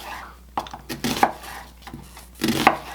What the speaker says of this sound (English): I'm going to cut it into strips